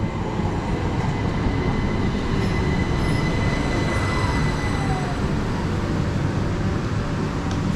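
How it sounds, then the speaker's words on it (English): A British Rail Class 377 electric train pulls into a station with a continuous broad rumble of wheels on track, faint squeals and whine over the steady roar, close by and loud throughout. "arriving in now, we've got 377-115, which is going to be our train to take us to the next station"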